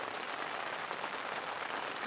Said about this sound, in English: Rainy day on Wrist Lake.